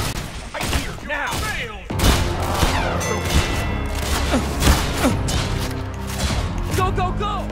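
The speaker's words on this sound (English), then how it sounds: "Open fire." Dense gunfire in the video game Typical Colors 2 comes in rapid overlapping bursts and booms that run through the whole stretch, with voices talking over the shooting.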